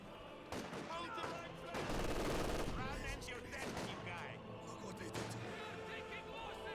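Sniper shots and other gunfire sound in the video game Company of Heroes 2, sharp cracks over a dense, busy battle backdrop of rattling weapons and explosions, moderately quiet overall.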